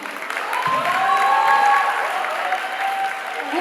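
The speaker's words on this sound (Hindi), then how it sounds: "जोरदार तालियां बजनी चाहिए" Warm, sustained applause from a crowd of guests at a sangeet night engagement celebration, fairly loud and steady throughout with some voices mixed in.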